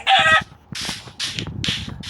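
A chicken clucks in short, loud bursts, several squawky calls in quick succession, close by.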